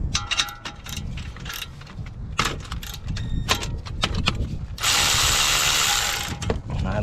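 A power tool loosens the 11mm Allen-head front brake caliper bolts on a 2015–2019 Land Rover Discovery Sport. A few close metallic clicks and clanks lead into a loud, sustained whirring burst of about a second and a half.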